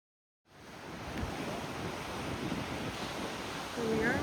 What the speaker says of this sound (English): We're at where the river meets the ocean. The River Plate meets the Atlantic Ocean.